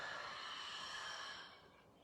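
A long, steady breath pushed out during a guided stretching exercise in a fight club class, a soft airy exhale lasting about two seconds that tapers off near the end.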